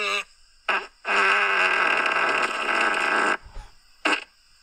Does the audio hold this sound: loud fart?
yes